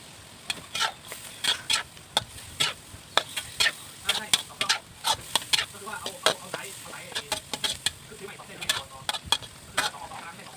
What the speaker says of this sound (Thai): ใส่วัตถุดิบที่เราเตรียมไว้ลงไปเลยค่ะ ตะไคร้หั่น ใบมะกรูด กระชายหั่นฝอยนะคะ